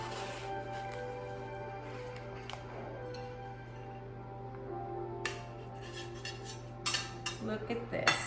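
A slice of baked potato moussaka is cut in its dish with cutlery, giving scattered metallic clinks and scrapes against the pan over a steady background hum, with a cluster of louder clinks toward the end.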